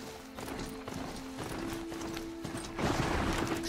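A horse gallops in the video game Horizon Zero Dawn: steady clip-clop hoofbeats run throughout, with a constant tonal hum beneath and a louder, brighter burst near the end.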